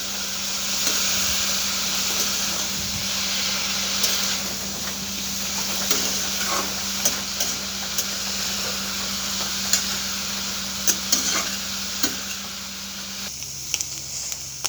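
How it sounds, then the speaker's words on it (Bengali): Bitter gourd fries in a pan with a continuous sizzling hiss, while a utensil stirs it with intermittent scraping taps and clicks, growing more frequent toward the end, under a steady low hum. "এ পর্যায়ে দিয়ে দেব করলাগুলো। এবার একটু নাড়াচাড়া করে নেব।"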